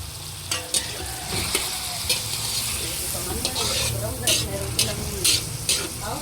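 Chicken meat frying and being stirred in a pan for birthday pancit, a steady sizzle under scraping stir strokes and occasional utensil clinks, fairly close.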